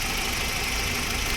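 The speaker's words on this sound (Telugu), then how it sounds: "ఇంజన్ బీడింగ్ వినండి, ఎంత సైలెంట్ ఉందంటే అంత సైలెంట్" A Honda City car engine idles quietly, giving a brief, steady, even hum with a soft mechanical hiss and no voices.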